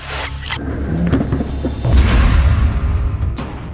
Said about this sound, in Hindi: जो धमाका है उसमें न सिर्फ इजराइल का टैंक फट रहा है